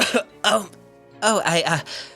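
A person speaking imitates a series of harsh, raspy coughs and throat-clearing noises, close up, in a few short bursts.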